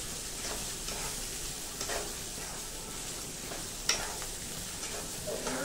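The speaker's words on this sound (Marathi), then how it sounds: "लसूण मिरचीचा खरडा, हा याच्यामध्ये घालायचा आहे आपल्याला मस्तपैकी. आणि हे छान मस्त परतून घ्यायचंय." Garlic-chili kharda sautéing in a pan for Khandeshi-style brinjal bharit: a steady, soft sizzle with occasional scrapes and clicks of stirring, fairly close, with no talk.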